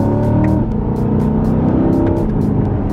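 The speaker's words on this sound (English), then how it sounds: "Yeah, so this needs an exhaust. That's not loud enough for me." Engine and exhaust of a 2020 C8 Corvette droning steadily from inside the car, a low, even hum with a slight shift in pitch partway through and faint ticks above.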